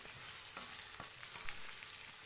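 A large chopped onion fries in a pan for a cumin garlic gravy, with a steady, fairly soft sizzle and light stirring taps.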